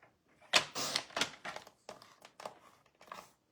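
An adhesive paper sheet being cut, a close series of about eight crisp crackling snips in an uneven rhythm, separated by brief quiet gaps.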